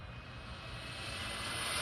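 A budget Laegendary Thunder RC car with a stock motor, ZTW ESC and 4S LiPo runs at full throttle. It gives a steady high-pitched electric whine that rises and swells over a couple of seconds, with no voices.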